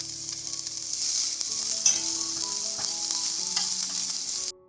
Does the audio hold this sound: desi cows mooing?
no